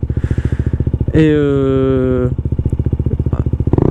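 Motorcycle engine running at a steady, loud near pulse during a ride to a regional bike rally, rising into a sustained higher-revving whine mid-clip before settling back to a throbbing idle-like rhythm, with a brief spoken word.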